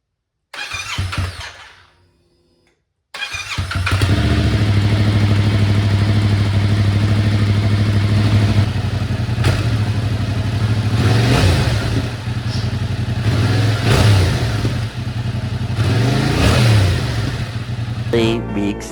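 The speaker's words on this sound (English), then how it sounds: "Let's do a first start, shall we?" Brand-new Yamaha MT-07 motorcycle fired up for its first start: a brief crank and catch, a short silence, then a loud close idle with several sharp revs rising and falling.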